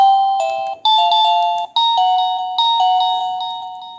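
Battery-free wireless doorbell chime playing its electronic ding-dong melody, a series of bright sustained tones in a repeating tune, loud and close with nothing else heard.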